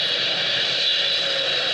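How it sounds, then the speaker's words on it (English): A jet aircraft coming in to land near an airport, a loud steady roaring whine that fills the whole moment without breaks. "as I speak above the noise of the jet coming in"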